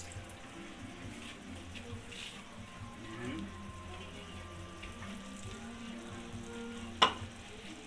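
A little water goes into chicken afritada cooking in a pan, and the pan answers with soft, steady sizzling and frying, a few stirring clinks and one sharp knock, all fairly quiet.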